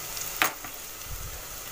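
Rinsed lentils frying in a hot pan, giving a steady close hiss of sizzling with a quick scrape or clatter near the start.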